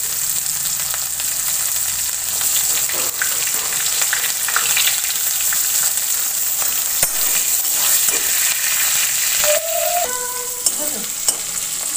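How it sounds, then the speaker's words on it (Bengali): Onions hit hot oil with bay leaf, dried chilli and five-spice, and a continuous loud sizzle runs throughout under occasional stirring scrapes, with a few brief clanks and squeaks near the end; no voices. "এবারে এর মধ্যে পেঁয়াজ দিয়ে দিচ্ছি"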